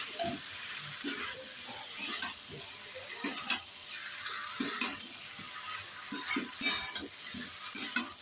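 Food stir-fried in a pan, sizzling steadily throughout with repeated scraping and stirring knocks of a utensil against the pan at irregular intervals, close and moderately loud, no voices.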